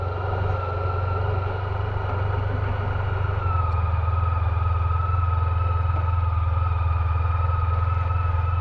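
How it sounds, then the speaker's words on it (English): Honda ST1300 Pan European motorcycle cruising on a motorway in top gear at low revs, a steady, smooth engine drone with constant wind and road rush, no talking. "The engine just sings when you're sitting on the motorway in top gear."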